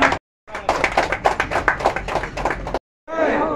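Rapid, rhythmic hand clapping in quick sharp bursts, fairly close and loud, with a short pause before a final stretch of claps, at an Aam Aadmi Party workers' gathering.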